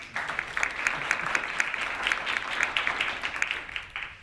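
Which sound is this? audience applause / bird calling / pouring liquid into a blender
audience applause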